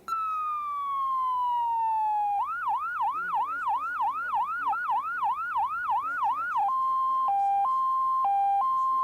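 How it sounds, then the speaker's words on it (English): A Massachusetts state police cruiser siren from 1994, a loud close wail sliding down, then a rapid repeating yelp, then an alternating two-tone pattern, alone with no voices. "Each cruiser has a variety of siren sounds to alert other drivers to the police presence."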